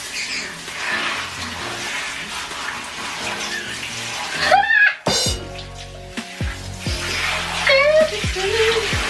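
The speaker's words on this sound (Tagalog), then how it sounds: "Dito na po yung shower head." A shower head sprays water in a bathroom, a steady hiss that breaks off briefly and resumes, with squeaky voice-like sounds and background music mixed in.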